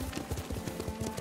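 Horse hooves galloping at a steady rhythmic pace in the video game Ghost of Tsushima, close and clear with no talk, a faint tonal hum running underneath.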